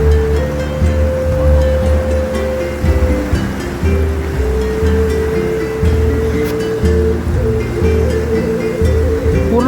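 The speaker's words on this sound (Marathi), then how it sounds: "पाणी एवढं भयंकर आणि गडूळ आले ना आणि स्पीड पण जास्त आहे" Fast-flowing, muddy river water swollen after rain rushes past in a loud, steady roar, with a low continuous rumble underneath.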